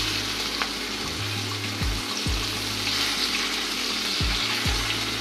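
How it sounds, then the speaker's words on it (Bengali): Hilsa fish frying in oil in a pan gives a continuous broadband sizzle. Low, brief sliding tones cut in a few times beneath the steady hiss. "মাছগুলো ভেজে নেব। এখন মাছটা উল্টিয়ে দেব।"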